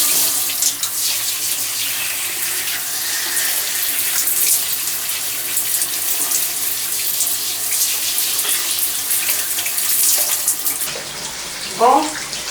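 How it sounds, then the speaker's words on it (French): Shower water streams steadily while hair is rinsed, a continuous hiss of spray at close range that changes near the end as the flow shifts, with a brief voice faintly audible over it. "Je viens de rincer mes cheveux. Je vais utiliser le vinaigre. Je vais laisser couler la douche"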